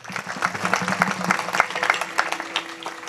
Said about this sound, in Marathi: आता वाजवा टाळी.